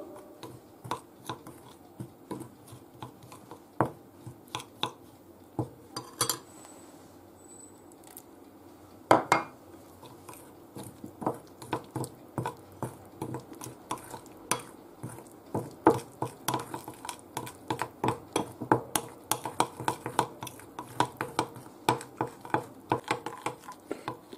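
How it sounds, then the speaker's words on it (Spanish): A whisk or spoon clinks and taps steadily against a bowl while a lemon glaze for a cinnamon and lemon sponge cake is mixed, sparse at first, then speeding into a quick, busy rhythm of light clatter. "Ahora vamos a hacer el glaseado para untar en el bizcocho. Se va haciendo poco a poco y se va mezclando."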